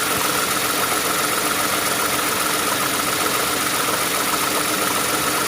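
Worn idler pulley bearing on a 2008 Toyota Sienna engine clacks faintly within a loud, steady engine idle drone, close to the microphone with no talking.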